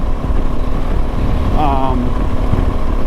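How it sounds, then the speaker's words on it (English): A Suzuki DRZ400 fitted with a Rekluse clutch idles at a steady low rumble close by, a brief voice breaking in partway through. "the bike will still idle and it won't stall"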